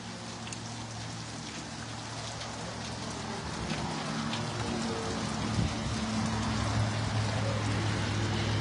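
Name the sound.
hail falling outdoors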